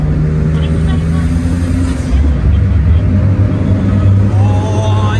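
A custom car in Sendai, Japan, with a homemade muffler exhaust, gives off a deep, steady engine rumble close by as people talk over it.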